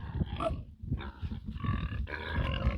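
Meat pigs grunting close by, a series of low rough grunts and snorts in uneven bursts, fairly loud.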